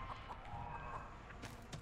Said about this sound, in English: I hope I won't aggro the chicken upstairs.